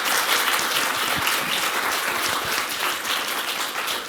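An audience at a digital preservation conference applauds after a talk, steady broadband clapping filling the room without speech.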